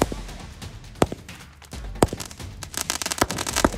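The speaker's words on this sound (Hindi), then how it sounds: "आपके सामने पाँच सौ रुपए के पटाखे चल रहे हैं" Firecrackers and fireworks go off outdoors in a big backyard display, sharp separate bangs about once a second followed by a fast crackling burst of pops, moderately close.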